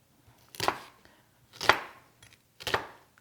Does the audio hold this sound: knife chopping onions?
yes